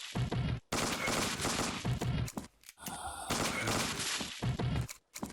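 Pistol gunfire in the video game Affliction Rescue, several dense bursts of rapid shots separated by brief silent gaps, loud and near.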